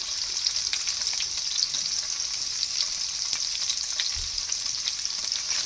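Paneer cubes fry gently in a pan with a bay leaf, producing a constant bright hiss of bubbling oil, close and fairly loud, with a faint low knock near the end and no speech.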